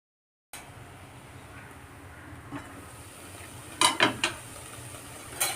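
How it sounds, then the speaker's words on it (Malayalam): A metal lid set onto a cooking pot of drumstick leaves, a few sharp clanks and rattles close by after a quiet stretch. "ഇനി മൂടി വെച്ച് വേവിക്കാം."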